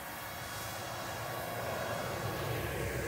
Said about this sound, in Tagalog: Ang drone namin na maliit,